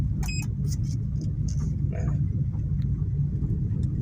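A Suzuki Swift on the move, heard from inside as a steady low road rumble and engine drone, with a few faint clicks and brief knocks over the constant hum.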